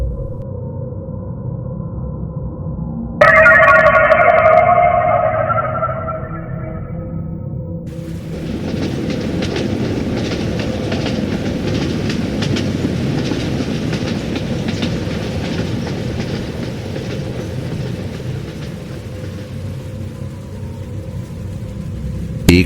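A train rolls through a railway station on a rainy night, beginning with a sharp horn-like blast, then a steady loud rumble and clatter of wagons that carries on for many seconds, with no voices.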